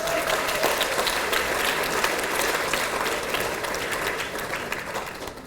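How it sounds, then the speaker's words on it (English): Wedding guests give the bride a steady, dense round of applause, the many hands clapping evenly throughout before tapering slightly at the end. "Please give her a round of applause."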